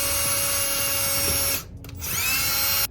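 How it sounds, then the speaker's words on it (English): A power drill bores a pilot hole for a door stopper, a high steady whine running for about a second and a half, pausing briefly, then spinning up again, close and loud. "we're going to drill our pilot hole with the appropriate size drill bit."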